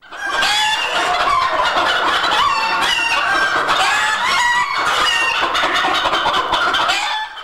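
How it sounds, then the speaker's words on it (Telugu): Roosters crow repeatedly in long rising calls while hens cluck steadily around them, a loud and close farmyard chorus with no talking. "అనాదిగా మానవుడి దినచర్య కోడికూతతోనే ప్రారంభమవుతుంది."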